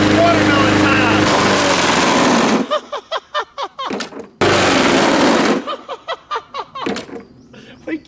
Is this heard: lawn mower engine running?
yes